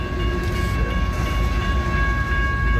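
Train cars rolling past at close range, a loud continuous rumble with steady tonal squeal over a heavy low roar.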